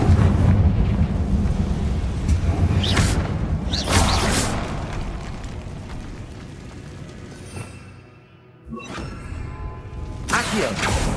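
Confringo blasting spell explosions in Hogwarts Legacy, heavy booming bursts around 3 s, 4 s, 9 s and 10.5 s over a dense rumbling game soundscape, loud and close.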